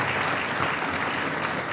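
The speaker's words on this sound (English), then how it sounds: "So please give Dr. Ogbar a round of applause." An audience gives a steady round of applause at a community organization's anniversary event, with many hands clapping together in a brief, even burst.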